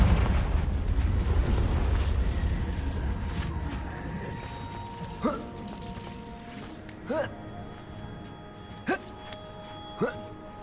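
Confringo fire spell blasts in the Hogwarts Legacy video game: a dense rumbling burst fading over several seconds, followed by four short sharp pops spaced a couple of seconds apart.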